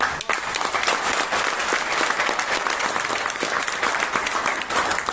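Audience clapping, a loud and steady wash of many hands applauding together without a break.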